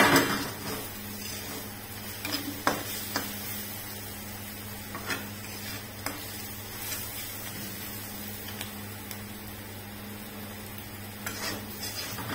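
Onion, tomato and cumin roasting in a pan give off a steady soft sizzle, with occasional light clinks of a utensil against the pan, fairly quiet and close, with no talk.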